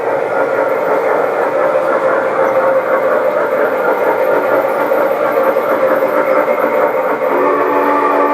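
A G-gauge garden railway model train runs indoors, producing a steady, loud, continuous rolling rumble with sustained tonal hum throughout and no talking.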